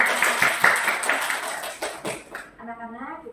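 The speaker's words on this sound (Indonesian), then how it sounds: "Tepuk tangan buat kita semua." A classroom of children claps together in a brisk burst of hand claps for over two seconds, then the clapping stops and a voice begins speaking.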